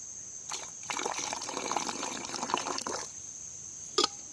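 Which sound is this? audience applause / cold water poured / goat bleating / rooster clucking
cold water poured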